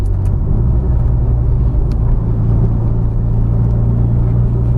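A turbocharged Mitsubishi Evo X engine pulls steadily uphill under load with a constant low droning hum and rumble, heard from inside the car, no talk.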